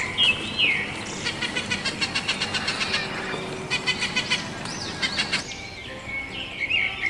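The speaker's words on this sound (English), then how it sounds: "P for parrot." A parrot call inserted as a sound effect in a children's phonics song, a series of bright chirps and squawks over a background of music, with shrill whistled accents at the start and end.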